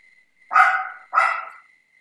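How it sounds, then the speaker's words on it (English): Two quick, loud barks come close together from chihuahuas, sharp and near, with a steady electronic tone humming underneath. "They bark at everything."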